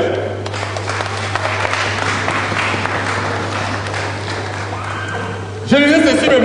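A church congregation applauds and cheers for the Lord in a steady, loud wash of clapping and voices that runs for several seconds before a preacher's voice cuts in over it.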